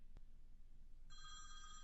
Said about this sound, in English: okay, there's the phone call coming in.